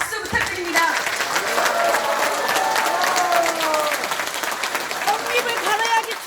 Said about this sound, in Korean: 응원의 큰 박수 부탁드립니다